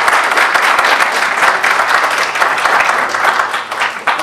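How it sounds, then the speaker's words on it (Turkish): Audience applause at a talk, a steady wash of clapping hands lasting several seconds and heard alone. "Bir alkış."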